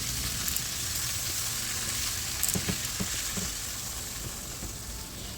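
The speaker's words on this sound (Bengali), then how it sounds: "তো সুন্দর করে উল্টে পাল্টে এপিঠ ওপিঠ সুন্দর করে ভেজে নেব" Pieces of rohu fish frying in hot oil while being turned over, a steady close sizzle with a few soft scraping knocks from the flipping, no talking.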